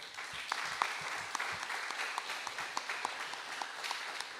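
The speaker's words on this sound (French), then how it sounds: "Applaudissements pour Damien Guillou, s'il vous plaît." An audience applauds a sailor at a Golden Globe Race skippers' show in France, steady clapping sustained throughout with scattered sharper claps standing out, fairly distant and moderate in level.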